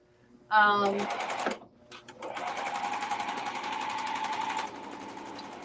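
A serger sewing machine hums briefly, pauses, then stitches in a steady, close, fast mechanical whir for several seconds before easing off.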